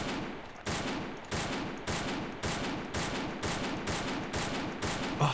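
Gewehr 41 semi-automatic rifle fire from the Totaler Krieg mod of a World War II strategy game, about ten evenly spaced sharp shots in a steady rhythm, close and alone.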